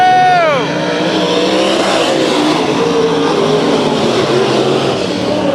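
Race car engine at a Bakersfield Speedway heat race, a loud sustained roar with a falling pitch sweep near the start as a car passes close, then steady racing noise from the field, with an announcer talking over it.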